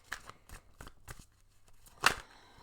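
Tarot cards being shuffled by hand, several quick riffling bursts in a loose rhythm, close and fairly quiet, ending with one sharper card snap.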